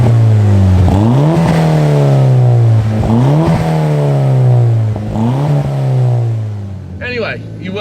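A Renault Clio 172 with a swapped 340 bhp Audi 1.8T engine accelerates hard, its loud, close engine note climbing and dropping through about three gear changes before it eases off. Voices come in at the very end.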